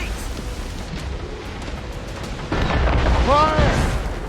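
Ship cannons boom in a naval battle against a fire ship in the Assassin's Creed Rogue video game. A deep rumble swells partway through as a crew member shouts over the low, heavy blasts.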